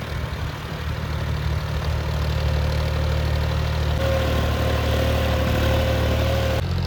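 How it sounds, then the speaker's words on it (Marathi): A John Deere tractor engine runs steadily at close range, a constant low rumble with a sustained hum for the full seven seconds and no talk over it. "जवळपास 10 मिनिटापासून माऊली ट्रॅक्टर चालवतोय"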